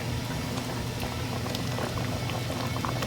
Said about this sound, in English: You just want this to be at a full rolling boil.